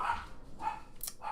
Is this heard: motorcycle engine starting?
no